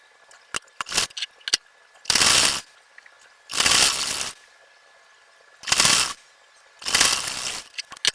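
A sewing machine runs the final seam on the sleeve of a 53-inch burqa in five short, loud whirring bursts with pauses between, where faint clicks and fabric handling are heard.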